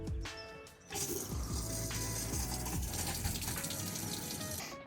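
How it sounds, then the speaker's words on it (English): A pond aerator kicks on about a second in, then churns the water with a steady, close bubbling gush that runs unbroken to the end, with no talking. "Turn the old aerator on."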